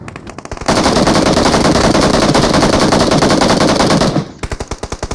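Loud sustained automatic gunfire from a shooting video game, a dense unbroken burst lasting several seconds, framed by short rapid single shots before and after, with no talking.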